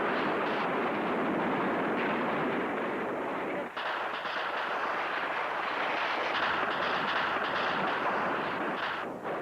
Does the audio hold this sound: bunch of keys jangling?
no